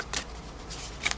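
Tarot cards being shuffled by hand in a few quick riffling bursts, close and fairly quiet, with brief pauses between them.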